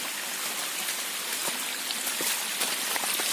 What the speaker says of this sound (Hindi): बारिश बहुत तेज से हो रहा है। देखिए दोस्तों यहाँ पर बहुत तेज से पानी आ रहा है।